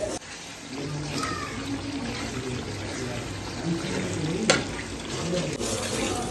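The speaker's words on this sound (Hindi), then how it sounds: "मसाले अच्छे तरीके भून कर रही" Masala for beef gravy frying in a karahi, a steady soft sizzle with occasional scrapes of a spoon as it is stirred, one sharper knock near the end, fairly close.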